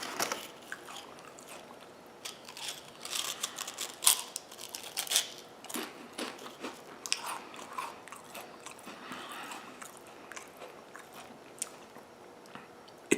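Lay's salted caramel potato chips crunched and chewed close to the mouth, a dense run of crisp, crackling bites that stays loud and steady throughout with no talking.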